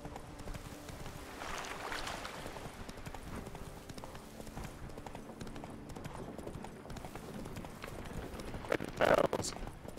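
Hooves gallop in a steady rhythm as a horse is ridden in the Witcher 3 video game, fairly soft under game sounds, with a sharp tonal chime near the end.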